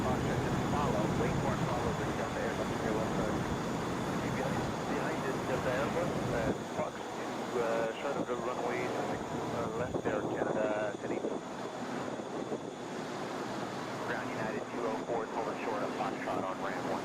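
Jets approach and take off at Atlanta International Airport, a broad roar heard from a distance and muffled by gusty wind on the microphone, fading midway and then swelling again.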